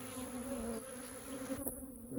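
Honey bees buzz in an open hive during a queen excluder inspection, a steady close drone with a sharp high tone near the end.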